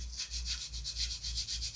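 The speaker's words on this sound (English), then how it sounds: "The top piece is planked with 1/8 balsa, and that's what I'm doing now. So I'm just sanding" Steady rhythmic sanding of 1/8-inch balsa planking on a model glider, a soft scratchy rasp repeating in quick even strokes, close up with no voices.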